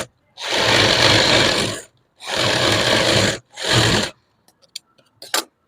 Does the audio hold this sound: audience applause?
no